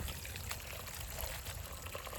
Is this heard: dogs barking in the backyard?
no